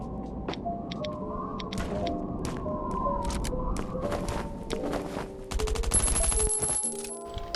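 Gunfire in the mobile survival game Last Island of Survival, with rapid bursts of shots over a busy game soundscape of tones and effects, growing louder and denser near the end.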